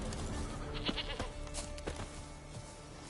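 A goat bleats in The Witcher 3: Wild Hunt on PS5, several short bleats over a dense game ambience, moderately close.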